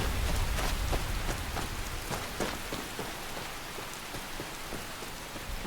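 Steady rain falls in the video game Skyrim, a dense continuous patter of drops on surfaces with a low rumble underneath, fairly close and even throughout, with no voices.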